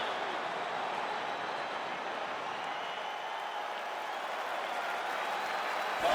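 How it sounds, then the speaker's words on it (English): Steady crowd roar from the arena in EA Sports UFC 5 as a new round of a video game fight begins, a dense continuous wash of cheering at even loudness throughout. "The crowd on its feet as this next round gets underway."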